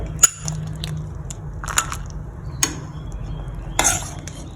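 Boiled five-colour beans are ladled into a bowl, heard as a few distinct clinks and scrapes of a ladle against metal and crockery, spaced about a second apart over a quiet background.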